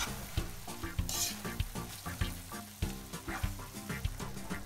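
Pasta with swordfish, thyme and a splash of pasta water is tossed and toasted in a hot pan, loud close sizzling with repeated rhythmic scraping stirs, no talking.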